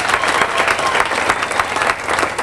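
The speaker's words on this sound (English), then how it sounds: "Round of applause for Miss Chris Mann, please" Audience at a live show at the Bumbershoot festival breaking into dense, steady applause for a guest, a sustained wash of many hands clapping with no talk over it.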